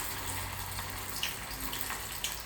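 Fritters made from leftover rice or khichdi sizzle in hot oil with a continuous crackling hiss and occasional soft pops.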